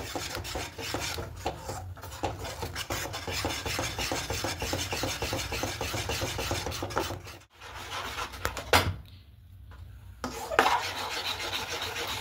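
A spoon stirs and scrapes a thickening khoya kheer milk mixture in a pan, giving a continuous close rasping scrape that breaks off briefly, then returns quieter.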